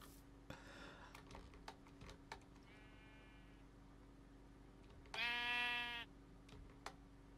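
Minecraft sheep bleat in a quiet game scene: one short bleat near the start, a softer one in the middle and a loud, clear bleat late on, with faint clicks and taps between them.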